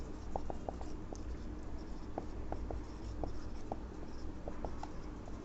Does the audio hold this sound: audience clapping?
no